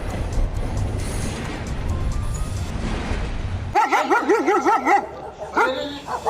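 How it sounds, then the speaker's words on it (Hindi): Two dogs bark and yelp in quick, rapid bursts while attacking a child in a housing society park. The barking starts abruptly after a stretch of loud broadband noise and is loud and close. "सोसाइटी के पार्क में बच्चा खेल रहा है, तभी दो कुत्ते उसके ऊपर हमला कर देते हैं।"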